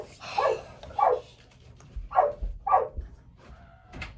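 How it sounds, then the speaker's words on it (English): A dog in a kennel barks close by in four sharp, evenly spaced barks over about three seconds, followed by a faint whine. "she's just barking in my ear while I'm reading"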